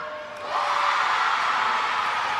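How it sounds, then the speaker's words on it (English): Crowd cheers swell at a netball international between the Cook Islands and Singapore, a broad roar of many voices with whoops that rises after a brief lull and holds loud and steady near the end of a quarter. "the crowd are very happy with the finish towards this third quarter"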